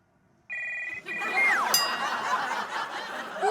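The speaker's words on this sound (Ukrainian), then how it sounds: "Тихо! Мой телефон!" A mobile phone ringtone bursts in with a bright electronic tone, then gives way to a busy mix of voices, chuckles and a sliding whistle-like effect in a comedic kitchen scene.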